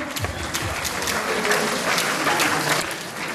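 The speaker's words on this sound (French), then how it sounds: "Allez, merci d'applaudir bien fort s'il vous plaît nos deux équipes." Spectators at a wheelchair basketball game between Saint Avold Moselle and Le Cannet Côte d'Azur applaud both teams in a loud, continuous wash of clapping.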